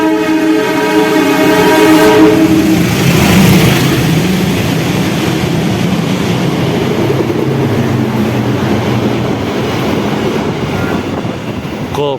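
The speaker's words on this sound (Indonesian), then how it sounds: "Gokil, baru kali ini saya lihat kereta ekonomi subsidi ngebut di stasiun besar" A Motis economy passenger train speeds through Gombong station in Central Java, its horn blaring loudly at first before a sustained, close roar of rushing wheels and wagons fills the rest.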